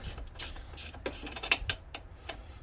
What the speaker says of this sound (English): I think it's the first time I've actually ever used my 17 mil ratcheting wrench.